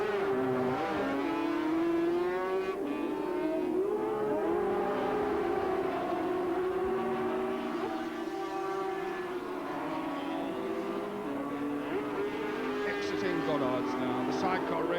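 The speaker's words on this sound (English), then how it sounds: "The sidecar race still very much alive" Sidecar racing outfits lapping Donington circuit near the hairpin, engines droning steadily with shifting pitch under loud race commentary throughout.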